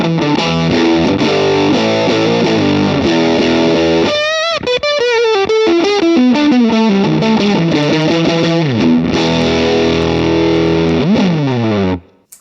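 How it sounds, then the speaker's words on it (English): An electric guitar runs through a JHS Mini Foot Fuzz pedal set almost to full, with the volume near unity gain. Thick, saturated fuzz chords and sustained single-note lines ring loud and continuous until an abrupt stop. "I pretty much run it full blast, almost full blast, and the volume pretty much at unity gain, and it sounds like this."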